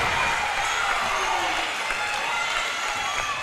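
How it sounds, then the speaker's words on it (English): Student section at a high school girls' varsity basketball game cheering and clapping, a dense, steady roar of crowd noise with applause that stays loud throughout, voices mixed into the din. "They're standing up and cheering on their team"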